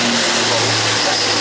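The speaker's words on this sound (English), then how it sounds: "This is the A400M from Airbus Defence and Space." An Airbus A400M military transport aircraft taking off at the Farnborough 2014 air show, a loud, continuous propeller-engine roar filling the whole clip, with a commentator talking over it.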